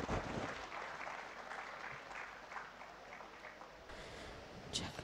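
Applause for speakers and panelists leaving the stage at the AfriLabs Annual Gathering, a dense moderate burst of clapping from a hall audience that thins after a few seconds, with a faint voice at the close.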